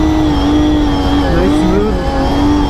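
Drift car in a pro drifting battle in Brazil, engine revving loud and close at a sustained high pitch with rising and falling sweeps as the throttle shifts.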